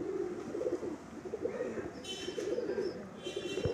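A Madrasi pigeon coos in soft, low repeated phrases against a faint background, with a few brief higher bird calls joining near the end.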